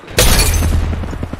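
An enemy armor shield cracking in Apex Legends: a sudden loud bright shattering burst, followed by a rumbling decay with a few fainter impacts trailing off, no voices over it.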